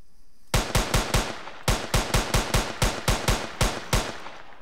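Rapid gunfire in an Unreal Engine 4 zombie game, about fifteen loud sharp shots in two quick bursts, close and evenly spaced, with no talking.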